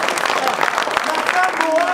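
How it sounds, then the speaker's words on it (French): An audience at a stage performance claps briefly for a performer, a short patch of applause mixed with a voice talking over it. "Quelques applaudissements pour mademoiselle Gigi"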